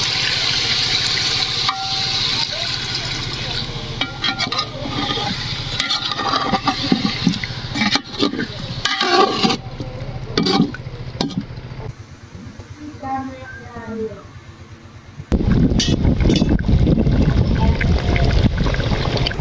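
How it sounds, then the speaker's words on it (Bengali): Water is poured into a pot of chicken and potatoes being cooked for chicken biryani, a loud rushing splash and gurgle that rises abruptly near the end, with a person talking over the earlier kitchen sizzle and clatter. "আমার চিকেনটা কষা নেওয়া হয়ে গেলে এখন দিব হচ্ছে জল।"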